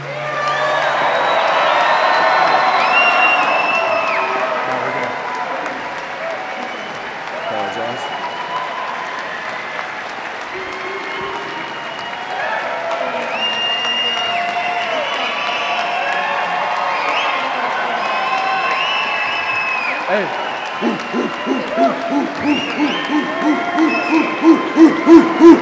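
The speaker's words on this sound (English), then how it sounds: "a round of applause for the class of 2026" Audience at a ring figure presentation ceremony applauds and cheers for the class of 2026, with whoops and hoots over dense clapping that carries on at length. Near the end, rhythmic unison clapping builds.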